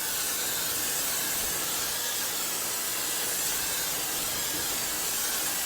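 Steady hissing spray coats bread on a grill for a Harlem chopped cheese sandwich, a continuous close, even aerosol-like hiss with no talk.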